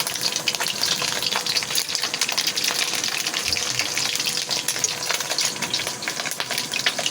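Tinapa, smoked fish, fries in hot oil with a steady, loud crackling sizzle that runs unbroken throughout, close to the pan and with no speech.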